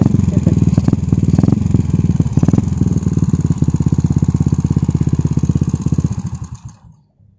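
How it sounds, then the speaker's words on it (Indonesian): A Honda Supra motorcycle engine fitted to a BMX bicycle runs with a steady, loud putt-putting idle and a few quick blips early on, then cuts off and dies away near the end. "Sekarang kita nyalain ya, kita dengerin suara sendal potnya."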